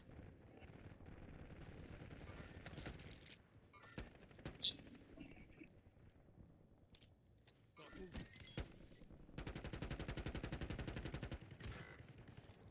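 Video game gunfire comes in bursts, some single shots and one long rapid automatic stretch near the end, amid clicks and mechanical reload-like noises.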